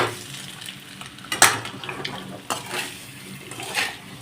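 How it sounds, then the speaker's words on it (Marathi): Eggs are stirred through masala in a pan over a low flame for an egg biryani, giving scraping spoon strokes against metal, a soft background sizzle and a few sharper clinks at close range. "2 मिनिटं अंडी आपण अशी मसाल्यात हलवून घ्यायची"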